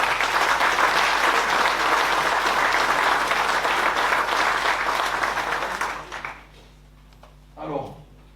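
An audience applauds the team at a 2024 season presentation, dense sustained clapping that fades out after about six seconds, then a brief voice.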